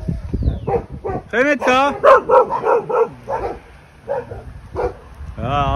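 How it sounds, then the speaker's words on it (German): A group of about five dogs bark loudly and close by in a series of sharp, repeated barks and yips at a camper stop, while a person speaks briefly between them. "Große Hundepopulation hier."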